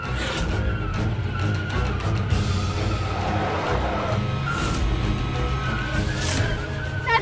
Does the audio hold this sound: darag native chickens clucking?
no